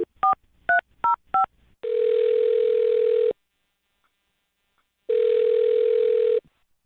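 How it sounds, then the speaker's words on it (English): Four short touch-tone beeps as a phone number is dialed for a radio call, followed by two long steady tones separated by silence, clear and close. "I'll dial her number right now, see if we can get her on the phone"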